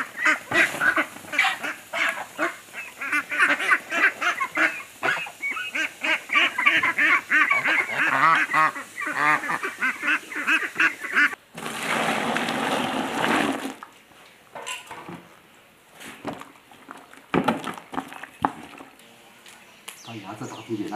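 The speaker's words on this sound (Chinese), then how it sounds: "喂这个鸭子。" Ducks being fed on a rural farm, a busy run of repeated quacks and honks from several birds close by, with people talking over and between the calls.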